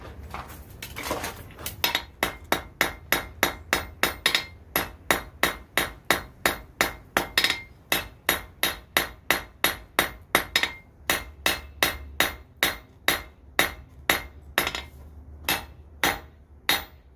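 Hammer striking hot steel on an anvil while hand forging a hairstick, a long run of sharp ringing metallic blows in an even, steady rhythm, close and clear with no talking.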